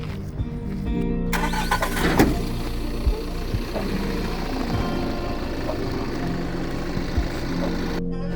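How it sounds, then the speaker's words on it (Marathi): A car engine, run during an engine flush with flushing liquid mixed into it, cranks and catches after about a second. It then settles into a steady, close idle that fills the rest of the clip with no talking. "आता आपण गाडी स्टार्ट करू."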